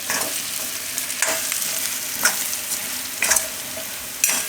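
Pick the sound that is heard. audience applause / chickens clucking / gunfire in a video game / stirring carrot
stirring carrot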